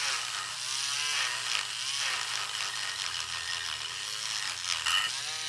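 A small high-pitched electric rotary nail tool with a sanding drum whines steadily, its pitch dipping and straining a few times as it bogs under light pressure.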